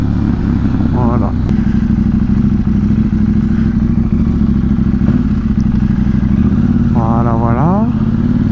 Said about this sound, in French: je lâche les deux mains et je peux descendre les vitesses